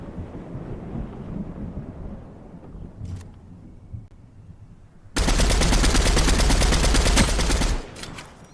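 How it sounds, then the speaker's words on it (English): MK7 rifle fire in a video game: after quieter background noise and a single sharp shot, a loud sustained burst of rapid automatic gunfire runs for a few seconds, then cuts off. "I'm not really a fan of this MK7. Too much recoil."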